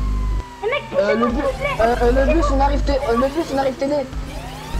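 A fire engine siren wails loud and near, its rising and falling tone going on throughout over heavy low rumble, with people talking over it.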